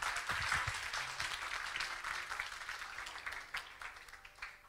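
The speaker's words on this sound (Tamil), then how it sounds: "அவர்களுக்கு மீண்டும் ஒரு கைத்தட்டல்." Applause at a school Tamil language festival, a steady wash of clapping that swells early and gradually thins out toward the end, heard alone without talk.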